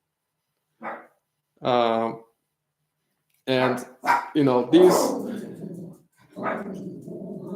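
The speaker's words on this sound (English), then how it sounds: "my dogs are barking" Dogs bark in a few short bursts with pauses between them, close and fairly loud, mixed with brief speech.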